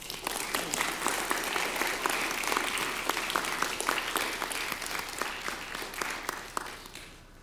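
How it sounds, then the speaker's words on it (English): Congregation clapping during a Sunday traditional church service to welcome a new member, a steady patter of many hands with distinct individual claps, moderately loud and fading out at the end. "You can clap."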